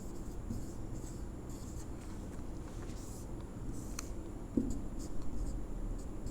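Steady scratching of a pen writing out a rational-numbers definition for a Class 10 maths lesson, close and continuous with a small tap near the end and no voices.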